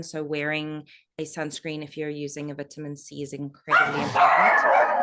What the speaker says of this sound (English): They might just bark for a little while because someone has just arrived.